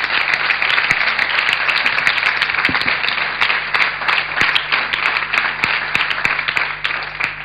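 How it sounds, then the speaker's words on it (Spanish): A church congregation applauds at an evening service, with dense, steady clapping that stays loud and sustained from start to finish. "¿Puedes darle un aplauso al Señor en esta noche?"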